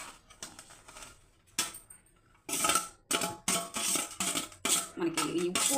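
Grains of rice tumble into a pot over chicken curry for a soft chicken dum biryani, heard as a run of close, scattered rattles and clinks that come in repeated pours, with no voices.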